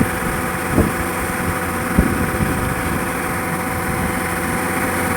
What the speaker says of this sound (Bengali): এই যে হারভেস্ট মেশিন, এই এতে প্রায় 8 বস্তা ধান সংগ্রহ করতে পারে।